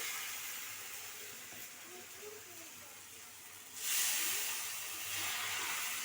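A thin batter of semolina, rice flour and flour hits a hot pan with a sudden loud hiss that swells and then settles into a steady sizzle, following a few seconds of quieter background hiss.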